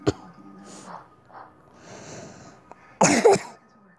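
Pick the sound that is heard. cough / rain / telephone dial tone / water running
cough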